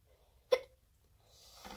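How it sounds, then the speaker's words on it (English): A single short, sharp hiccup from a person, close and clear against near silence, followed by a faint rustle. "I had the hiccups, so."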